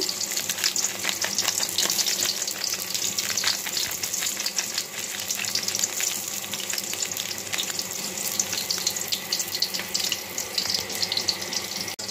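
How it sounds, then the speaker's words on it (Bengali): Onions frying in a pan for biryani give a steady, dense sizzle with fine crackling that runs unbroken throughout, close and fairly loud with no voices. "তো পেঁয়াজটাও ভাজা হয়ে গেছে, এখন মশলাটাও দিয়ে দিব।"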